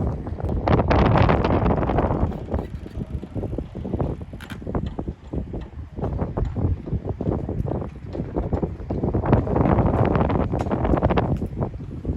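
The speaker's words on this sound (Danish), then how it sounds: "Og det blæser stadigvæk en halv pelikan." Strong wind buffets the microphone at Svendborg harbour, a steady roaring rumble that swells in gusts near the start and again toward the end, with faint rigging and mechanical clatter mixed in and no talking.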